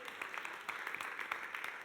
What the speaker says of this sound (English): Do feel free to clap.